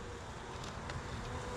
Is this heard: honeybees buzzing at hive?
yes